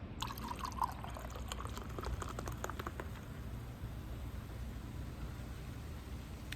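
Lemon-flavored carbonated water poured into bourbon, a short run of splashing and fizzing at the start that settles into a low steady hiss, close by with no talking.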